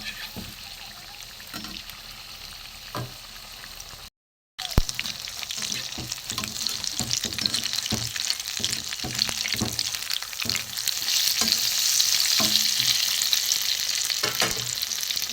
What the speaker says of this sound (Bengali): এইভাবে আমি ভেজে নেব একটু উল্টো পাল্টে দেবো